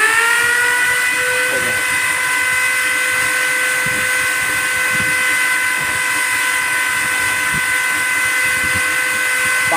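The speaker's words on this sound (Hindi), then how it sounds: "देखिए जैसे ड्रिल मशीन को ऑन करूंगा फिर देखिए कितनी देर में लाइट ब्लिंकिंग होगा।" An electric drill machine is switched on and runs without a break, giving a loud, steady, high-pitched whine with a hissing edge that continues throughout.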